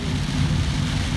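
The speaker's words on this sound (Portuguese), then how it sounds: "Quem pegou a rodovia nesta terça-feira encontrou muita chuva pela frente." Heavy rain falling on a highway in Paraná on a stormy day, a steady dense roar of downpour with low rumbling, continuous and close throughout with no voices.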